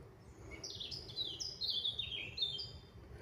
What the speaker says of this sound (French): En tout cas, on entend les oiseaux chanter.